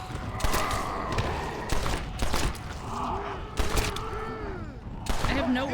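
Gunfire in the zombie western game Red Dead Redemption: Undead Nightmare: several sharp shots burst at irregular intervals over game ambience, with a person talking and sighing between them.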